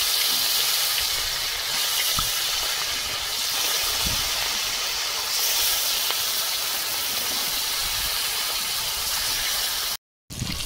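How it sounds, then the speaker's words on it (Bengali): Fish frying in hot oil for a Bengali doi katla dish gives off a loud, continuous sizzling hiss, close up and steady, with a brief cut of silence near the end. "বাকি মাছগুলো এইভাবে ভেজে নেব।"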